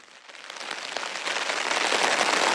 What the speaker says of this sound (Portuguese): Chove forte aqui em Porto Alegre